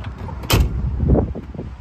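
A single solid thud of a 1967 Dodge Coronet R/T car door shutting, close by, followed by a brief low rumble as it settles.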